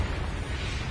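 Confringo blasting spell from Hogwarts Legacy erupting in a dense, sustained explosive roar that fills the whole second, loud and close with a rumbling low end and no talk.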